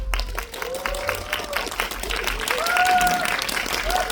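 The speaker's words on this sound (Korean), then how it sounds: "여러분, 결혼하겠나의 주인공분들을 뜨거운 박수로 환영해 주시기 바랍니다" Warm audience applause greets guests at a film screening's guest-visit talk, a continuous clatter of clapping with some voices and tonal sounds mixed in.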